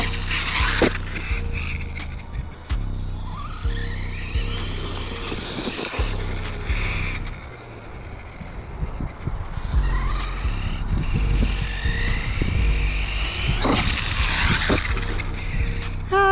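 An Axial Ryft RC car on tall tires drives and jumps, its electric motor whining up and down in rising and falling sweeps, with tire scuffs and landing clatters, fairly close and continuous.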